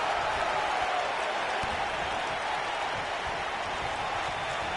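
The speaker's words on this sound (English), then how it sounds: "I don't remember the last time I heard a more passionate crowd than the one we have here tonight." A wrestling arena crowd in WWE 2K19 roars steadily, a dense, continuous wash of cheering and applause with no break across the whole stretch.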